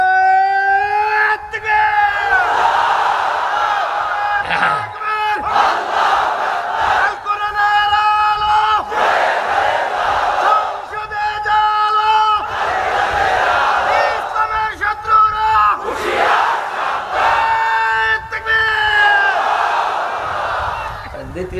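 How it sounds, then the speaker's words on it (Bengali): A large crowd at an Islamic religious sermon shouts the takbir in repeated loud, chanted waves, voices swelling and falling in rhythmic bursts with short pauses between. "আপনি একটা তাকবীর দেন তো।"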